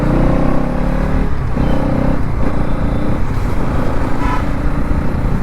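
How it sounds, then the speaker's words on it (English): A Bajaj NS200 motorcycle engine revs hard above 6000 RPM, a loud, continuous buzzing exhaust roar with slight shifts in pitch as it accelerates. "I love the exhaust note after 6000 RPM"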